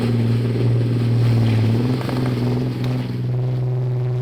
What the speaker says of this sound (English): It's a big, massive lump of metal with a V12 engine in it.